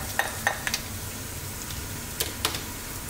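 Chopped garlic hits hot olive oil in a pan and fries with a soft steady sizzle, broken by a few light clinks and taps of a utensil stirring, close by and with no talking.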